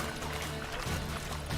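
Roach the horse wading through deep swamp water in Witcher 3, a continuous rushing, sloshing wash of water that stays loud and close throughout, with no talking.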